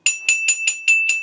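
A bell kit strikes one bright, ringing E natural six times in quick, even succession, close and clear.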